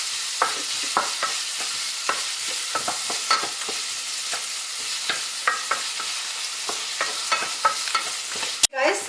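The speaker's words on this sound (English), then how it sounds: "the oil is hot now, so I put cumin seed, half spoon" Onions and cumin seeds sizzle steadily in hot oil for a Paneer Bhurji, a loud continuous frying hiss broken by regular stirring scrapes, with a sharp clatter right at the end.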